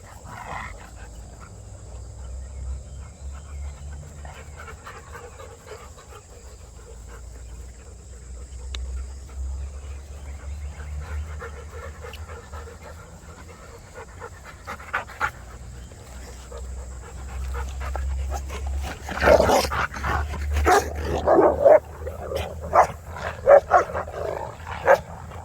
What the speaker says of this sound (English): For those that go, oh my God, your dogs are fighting.